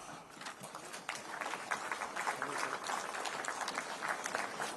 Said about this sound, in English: The applause is getting softer.